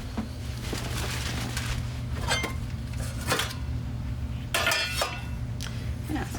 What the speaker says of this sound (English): I sold this all-clad pan